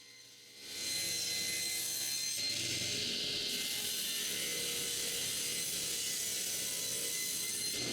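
A power saw cuts wooden boards to height for a chest of drawers, spinning up after a short pause into a loud continuous whine that holds steady through the cut, close by with no voices.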